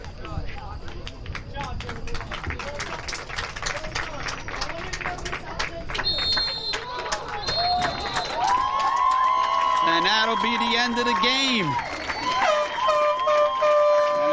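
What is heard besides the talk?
crowd cheering at end of high school soccer game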